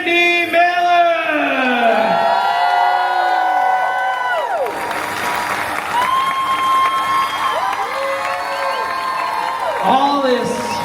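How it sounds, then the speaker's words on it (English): Audience at a Howl-O-Scream Orlando show bursts into loud, sustained applause and cheering, with whoops and shouts rising over a steady roar of clapping, while an amplified announcer's voice carries on through it. "Please put your hands together"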